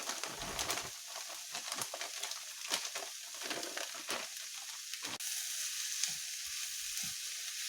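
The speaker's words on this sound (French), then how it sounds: "Et ensuite, il faut faire dorer la viande." Minced meat sizzles steadily in a pan with vegetables for a samosa filling, a constant frying hiss broken by scattered spoon taps and stirring scrapes, close and fairly loud.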